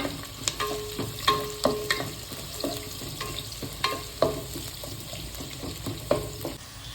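Onions frying in a pan for Kundapura-style crab sukka, a steady low sizzle broken by repeated scraping stir strokes and clinks of a spatula, close and moderately loud with no talking.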